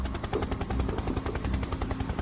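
A helicopter in a video game, its rotor chopping in a rapid, steady pulse that stays loud and close throughout, with no talk over it.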